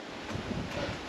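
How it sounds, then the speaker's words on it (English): Strong wind gusting across an open hillside path near Inversnaid in the Trossachs, a steady broadband roar buffeting the microphone with slight surges, no voices. "Wind's really picked up"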